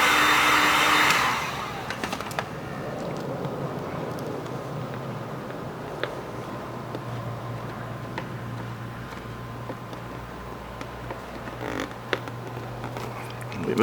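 A heat gun blows steadily on a motocross graphics sticker for a 2021 Kawasaki KX250, a continuous close airy whoosh with a brief louder burst at the start and faint handling clicks.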